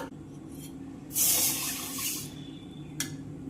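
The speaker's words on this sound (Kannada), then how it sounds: "ಈಗ ನೀರು ಹಾಕ್ತಾನು" Water poured into a heavy-bottomed pot for boiling dough, a short splashing gush over a low background hum, then a quieter trickle and one brief clatter near the end.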